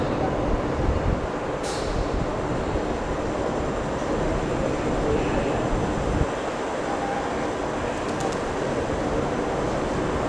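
Train rumbling steadily into a main station downtown, a dense low-frequency roll with a brief brake squeal early on and faint metallic clinks later, no voices.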